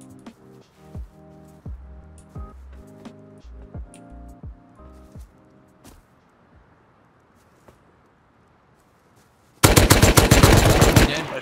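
Rapid, rhythmic video game gunfire rattles through the first half, then a sudden loud, dense burst of shooting erupts near the end. There is no talk.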